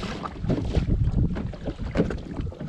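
A fishing kayak cruises at sea off the Navarre Beach reef, with water rushing and slapping against the hull and wind buffeting the microphone in a close, uneven wash.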